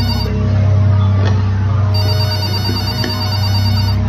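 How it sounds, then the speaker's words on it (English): A phone rings in the horror video game Five Nights With Mac Tonight, a steady electronic tone that keeps going, loud and close, with no speech over it. "Oh, another phone call."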